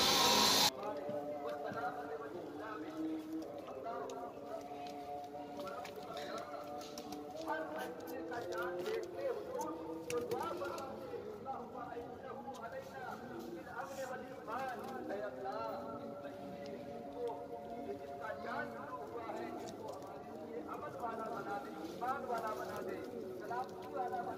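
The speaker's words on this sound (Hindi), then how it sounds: "बहुत ही अच्छे कबूतर है" Allahabadi high-flyer pigeons in Andheri coo softly and steadily throughout, layered with overlapping bird calls and some background talk.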